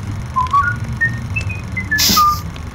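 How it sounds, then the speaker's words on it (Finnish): A cheerful snippet of a song is whistled in a rising and falling run of short, clear notes, close and bright, ending in a louder burst of sound. "Hän laittoi hampaat takaisin suuhunsa ja vihelsi iloisesti laulun pätkän."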